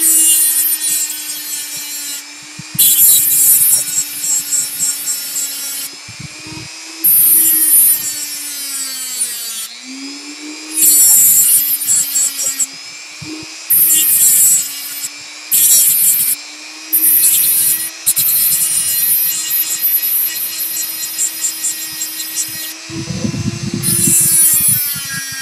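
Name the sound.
Dremel flattening the end of music wire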